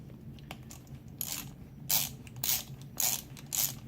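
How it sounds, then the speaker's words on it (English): A 3/8 ratchet with an extension and Allen hex head socket clicking as it snugs bolts during an overhaul, several bursts of rapid pawl clicks at a steady back-and-forth rhythm, close and clear with no talking. "Bring them all down evenly with your 3/8 ratchet, your extension, and your Allen key hex head"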